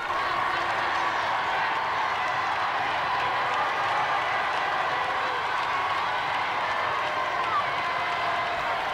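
Large jubilant crowd filling a palace square to cheer a newly arrived king, a dense steady roar of applause and cheering from a distance, with no breaks throughout.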